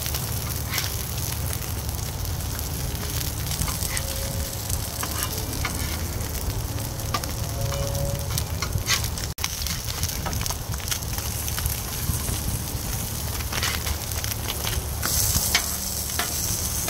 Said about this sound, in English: Let's check on our Spam and see how it's cooking.